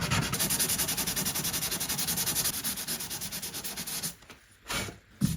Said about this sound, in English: I simply sand off the extra material and fine sand it back to 400 grit